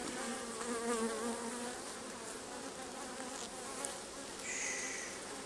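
Honey bees buzzing around an opened hive during an inspection, a close, wavering drone with individual bees passing near the listener, steady and moderately loud, no talk.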